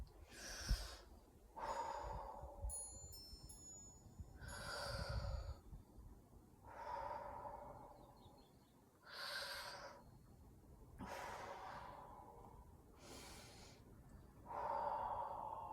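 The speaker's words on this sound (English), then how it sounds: "Keep breathing, whether it's through your nose or your mouth, you decide" Strong, rhythmic breaths drawn in and pushed out through the nose or mouth during a swinging exercise routine, each one a loud, close rush of air with short pauses between.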